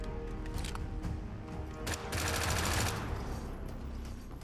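A pump shotgun fires a few loud, close blasts in the survival shooter game The Front, a short burst of sharp reports over background game noise.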